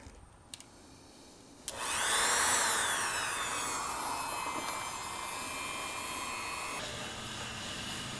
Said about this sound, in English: I've got my little Dremel tool here, so I'm going to go ahead and start making my cut